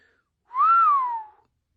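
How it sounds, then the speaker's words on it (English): A single clear whistle, sliding up and then gently falling in pitch, lasting under a second, close and alone against silence. "let out a respectful whistle"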